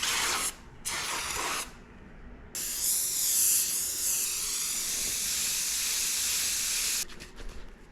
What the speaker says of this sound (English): We're gonna use some 3M high strength super spray adhesive.